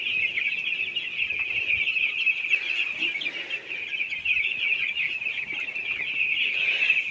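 A dense flock of seven-day-old broiler chicks on a village poultry farm peeps and chirps continuously, a steady high chorus close by and without talk.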